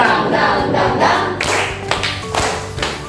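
A group clapping along in a hand-clapping rhythm game, beating out a drum-like pattern of taps and claps, fairly close and loud, with irregular clusters of hits and no talking over it.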